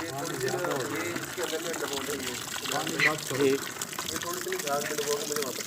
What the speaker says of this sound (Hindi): पानी को चलाएं।